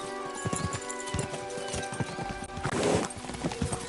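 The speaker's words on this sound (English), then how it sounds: "We should spur the horses on." Several horses gallop in Kingdom Come Deliverance 2, their hooves clip-clopping in a steady, fairly loud rhythm under a continuous ambient bed, with a brief snort or whinny near the middle.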